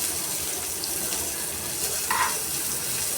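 Okra frying in a pan, being flipped over: a steady, dense sizzle fills the whole stretch, with a brief scraping clatter near the end as the pieces are turned.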